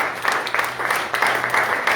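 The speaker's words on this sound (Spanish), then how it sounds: "Démosle un fuerte aplauso al Señor." Applause from a congregation at a Friday evening church service, a short burst of rhythmic group clapping filling the room, loud and steady for a couple of seconds.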